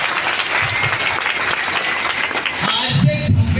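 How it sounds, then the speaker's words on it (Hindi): Crowd clapping at a DXN mega event in Latehar, Jharkhand, steady applause filling the hall while someone talks over it. "एक जोरदार ताली"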